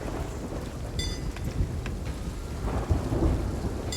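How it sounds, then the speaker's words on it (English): Thunder rumbles through steady rain in a video-game storm, with a few sharper crackling strikes over a constant wet hiss. "Storm is passing."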